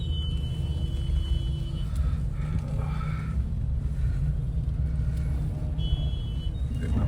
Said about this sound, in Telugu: చౌరస్తా మొత్తం ట్రాఫిక్ జామ్ అయిపోయింది